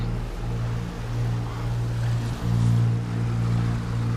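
A sailboat motors away from the marina dock at Palmas Del Mar, Puerto Rico, a steady low engine drone with a washing water hiss over calm seas, continuous and unbroken.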